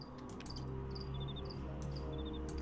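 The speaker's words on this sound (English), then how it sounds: "this is the chirping of crickets is somewhat insulting" Crickets chirp steadily in the video game Temple of Elemental Evil, with short repeated trilling pulses over a constant low ambient hum, moderately loud and with no talking.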